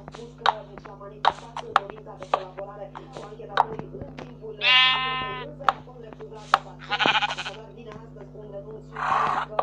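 Sheep in the Minecraft video game bleat several times in short, distinct calls, set against a steady low hum with soft clicks and speech underneath.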